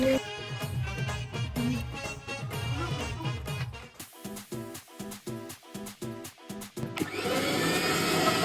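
A motorized appliance like a mixer grinder whirs in loud pulses, stopping and starting rhythmically before revving into a continuous high-pitched grind.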